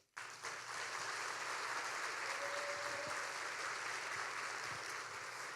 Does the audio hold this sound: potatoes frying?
no